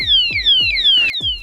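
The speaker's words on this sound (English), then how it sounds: "the alarm goes off" Loud electronic siren from a Loc-R-Bar lock alarm on a bass boat, rapidly repeating descending whoops in quick succession, close and piercing.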